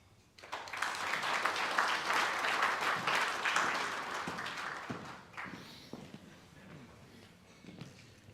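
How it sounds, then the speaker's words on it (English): An audience applauds after a presentation, a dense burst of clapping that starts abruptly, holds strong for several seconds, then thins out into scattered claps. "a big round of applause for Jack Kouzi for that wonderful presentation"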